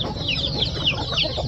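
Chickens cluck in quick repeated calls, close and fairly loud over a steady farmyard background, with no talk.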